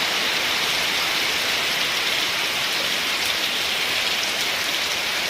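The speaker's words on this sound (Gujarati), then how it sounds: "7 વાગ્યામાં વરસાદ સ્ટાર્ટ થઈ ગયો છે, જોઈ શકો છો તમે બધા" Heavy rain falls steadily in an early-morning monsoon downpour, a loud, unbroken wash of patter and hiss close at hand, with no voices.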